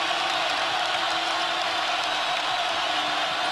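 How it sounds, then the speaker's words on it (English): A basketball crowd roars at Allen Fieldhouse during a Kansas Jayhawks game, a dense, steady wash of cheering that fills the arena without letup. "And here comes the crowd at Allen"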